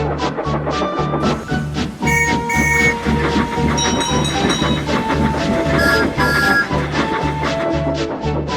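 Thomas the Tank Engine pulling away on a model railway setting, a steady loud clickety-clack of wheels with rhythmic chuffing and hiss, short whistle-like tones sounding over the running train throughout.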